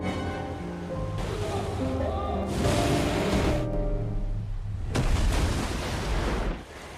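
Car crashing through a waterfall and plunging into a river in an action film scene: a sustained loud roar of rushing water with surging bursts and a heavy splashing impact near the end.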